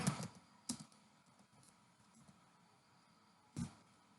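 A few sharp, isolated keystrokes on a computer keyboard ring out in a quiet room, separated by long pauses of near silence.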